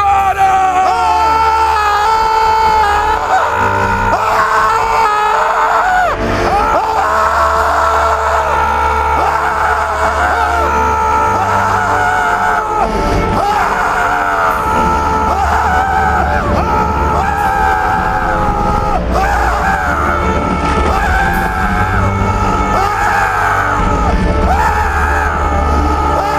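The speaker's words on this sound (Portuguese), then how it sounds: "Grita agora!" A church congregation shouts loudly together at a bishop's call during a worship service, a sustained, dense roar of many voices with yells and whoops running continuously for nearly half a minute.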